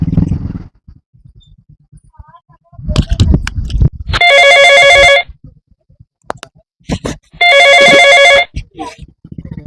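A telephone rings in two long electronic bursts while dialing the 112 emergency number, loud and close, with voices and rustling between the rings.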